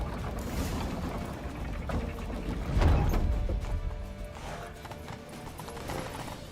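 Horse hooves clip-clop steadily in The Witcher 3 as the horse is ridden toward a temple past crowds and barricades, a continuous mid-level trot under game ambience with no talk.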